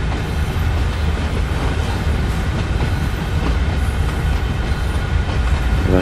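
Simulated train wagons roll downhill in Train Sim World 2, a loud, continuous rumble and clatter of rail cars with no talking.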